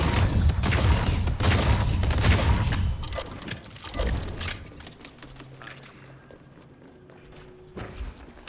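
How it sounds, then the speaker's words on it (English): Pulse grenade explosions burst in a Deadlock match, with dense crackling blasts and thuds packed into the first four seconds, then fading to scattered quieter impacts and a low hum. "Pulse grenade."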